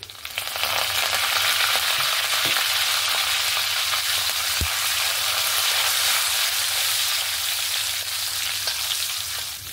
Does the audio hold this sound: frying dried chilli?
yes